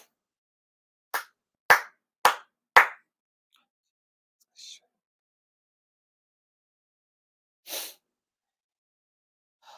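Four crisp hand claps of a Shinto prayer ring out in an otherwise quiet space, evenly spaced about half a second apart, followed by a few faint scattered sounds.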